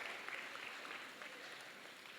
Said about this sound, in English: give her and her staff a big round of applause for the amazing food